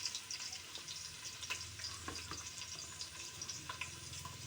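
Garlic frying in a pan alongside ginger for arroz caldo, a dense continuous sizzle with faint stirring scrapes, close and steady, with no talking.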